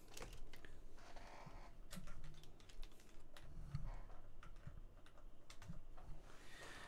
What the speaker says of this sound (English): I need to use a keyboard.